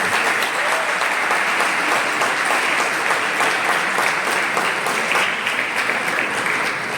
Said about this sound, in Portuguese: Receber com uma salva de palmas para Jesus.